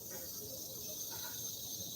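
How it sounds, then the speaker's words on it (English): Cicadas drone steadily in Uvita, Costa Rica, a dense, unbroken high buzz filling the whole stretch at moderate loudness. "cicadas are starting up"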